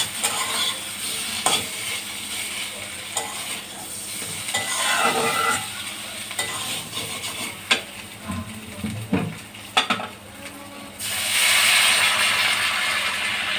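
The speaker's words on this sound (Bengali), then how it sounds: "টমেটোটা একটু নরম হয়ে আসা পর্যন্ত নাড়তে থাকবে।" Chopped tomatoes fry and are stirred in a pan for a thin snakehead fish curry with potato. A continuous sizzle runs under repeated spatula scrapes and knocks, swelling louder near the end.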